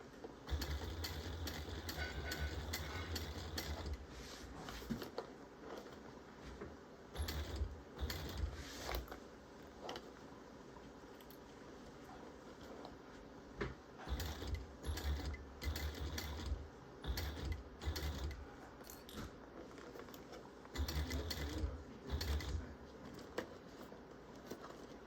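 A sewing machine stitching a light-up Forbidden Forest bag with a back stitch, its motor whirring in several close, loud bursts separated by short pauses, with quiet handling sounds in between.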